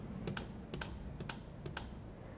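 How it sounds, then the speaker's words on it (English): Raw potato is sliced on a mandoline in smooth top-to-bottom strokes, giving a series of sharp, close scraping clicks in roughly regular pairs over a steady background hiss, with no talking. "When doing a mandolin, it's important to go from top to bottom with one smooth stroke."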